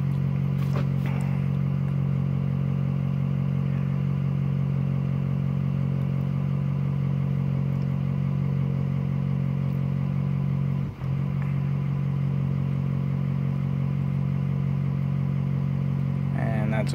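Ford F250 diesel pickup idling during a key-on engine-running test, a steady low rumble that stays constant and close, with a brief dip partway through and faint clatter at the start.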